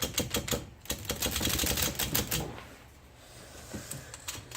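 A Smith-Corona Korean typewriter mechanism being handled during disassembly and cleaning, giving dense rapid mechanical clacks and rattles up close, then thinning to sparse quieter clicks over a faint background.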